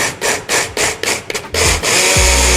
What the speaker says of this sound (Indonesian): ini kita akan blender sampai halus